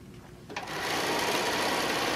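A sewing machine pieces a quilt top from QT Fabrics Blossom fabric: after half a second of quiet it whirs up and then runs steadily at a close, even, humming pace.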